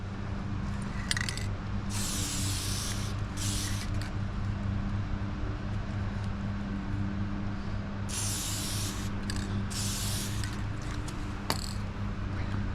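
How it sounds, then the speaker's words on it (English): WD-40 Specialist Dry Lube with Teflon sprays from an aerosol can onto a Mazda power seat mechanism, firing in several short hissing bursts of about a second each over a low steady background hum. "Now I'm going to use this WD-40 Specialist Dry Lube with Teflon"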